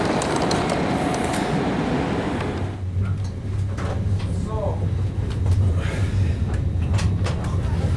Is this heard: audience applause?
no